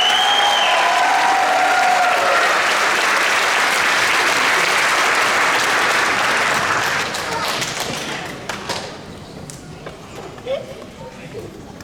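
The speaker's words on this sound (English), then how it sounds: "Give a round of applause to the class of 2026." Loud, dense applause from a large crowd at a high school graduation ceremony for the class of 2026, sustained for several seconds before thinning into scattered claps and fading.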